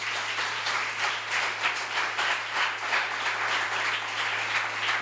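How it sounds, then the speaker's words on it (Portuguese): Congregation applauding during a Saturday night church service, a steady wash of many hands clapping that swells and ebbs in waves throughout, with a low constant hum underneath and no talk. "Vamos aplaudir ao Senhor."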